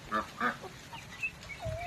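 Ducks quack and honk in short bursts at a duck farm, with a couple of loud nearby calls and a few fainter ones from the flock behind.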